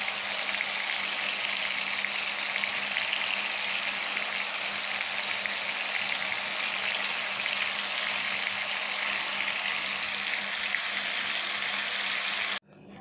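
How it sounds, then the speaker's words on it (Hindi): Beef seekh kebabs frying in a pan, a steady loud sizzle of hot oil with a constant hiss that runs unbroken before cutting off abruptly at the end. "कबाब को फ्राई होते हुए 1 मिनट हो गया है।"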